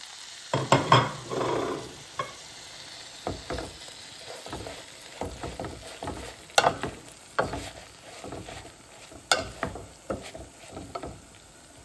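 Hoilfa fish goes into a pan of already fried garlic and sizzles steadily, while a utensil stirs and scrapes in irregular bursts of clatter, close by with no talking.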